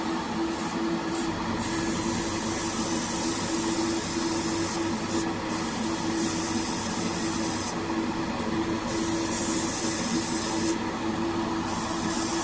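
Weather black paint sprayed onto the roof of an OO gauge model diesel locomotive, a loud, steady hiss held without a break from start to finish, close up, with no talking.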